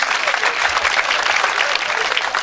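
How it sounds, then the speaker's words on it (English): A carnival crowd claps continuously in a steady, dense wash of applause close by, with no clear speech over it, on a night near the new year. "Clap for yourself."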